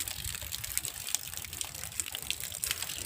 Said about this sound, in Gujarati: હજુ ચાલુ જ છે પાણી એમનું એમ